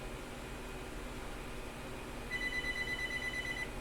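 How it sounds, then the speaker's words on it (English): A telephone rings steadily in a quiet room with a constant hum, its electronic trill growing more prominent partway through and continuing to the end with no talking. "Oh, sorry about the phone."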